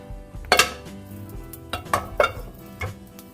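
Dishes and cutlery clink and knock on a table as fried rice with pork and egg is served: a sharp clatter near the start, then several lighter taps and clinks spaced out over a few seconds, close by, with no talking.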